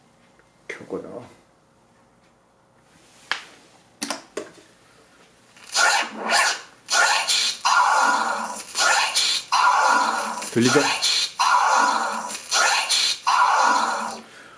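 A turntable plays the track of a hip-hop scratch battle record, a short scratchy vocal phrase that repeats again and again in bursts; someone briefly speaks at the start.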